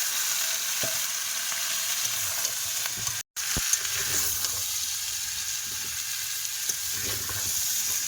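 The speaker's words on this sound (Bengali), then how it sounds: "খুব ভালোভাবে তরকারিটা কষাই করছি" Large potatoes in a curry with turmeric, salt and chili powder sauté in a pan: a steady close hiss of frying runs throughout, broken once by a brief silence and a few soft scrapes of stirring.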